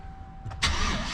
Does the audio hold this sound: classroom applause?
no